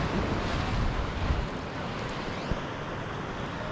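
Churned-up ocean surf breaks offshore near a channel with parked boats, a steady broadband wash of waves mixed with wind buffeting the microphone, with no talking.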